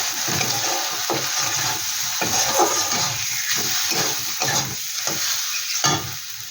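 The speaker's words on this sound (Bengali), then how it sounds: "এটা দিয়ে একটু ভালো করে কষিয়ে নিই।" Cumin, coriander and Kashmiri chilli powder sautéing in oil for Bengali koi fish curry, a dense hiss and sizzle with repeated rhythmic stirring scrapes throughout, close and steady with no speech.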